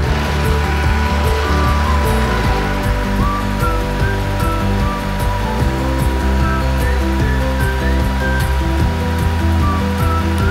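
A Bosch Unlimited Serie 8 cordless vacuum cleaner runs with a steady, loud, rushing whine that holds evenly throughout, close by, with no talking over it.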